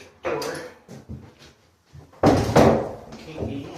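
An interior door is tried while locked, with a few short knocks and rattles followed by a louder burst of knob rattling and door clatter, and voices talk around it.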